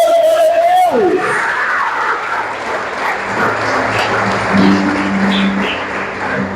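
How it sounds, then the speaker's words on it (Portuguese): After a brief voice, a church congregation breaks into sustained applause, a dense wash of clapping with crowd murmur and a few voices underneath. "Aplauda o Senhor, glória a Deus!"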